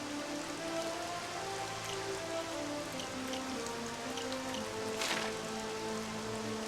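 Rain from the video game Dragon Quest XI pours as steady soft patter on surfaces beneath faint looping background music, continuous and even, with no voices.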